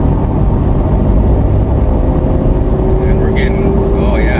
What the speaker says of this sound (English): So we're currently in third gear and we're doing 40, and we're pretty high on the RPMs